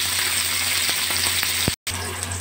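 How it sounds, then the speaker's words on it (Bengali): Pointed gourd pieces frying in hot oil with a pinch of salt and turmeric, giving a close, steady crackling sizzle with a brief dropout near the end. "ওই তেলের মধ্যে পটলগুলো দিয়ে দিলাম, পটলগুলো 1 চিমটে নুন হলুদ দিয়ে ভেজে তুলে নেব"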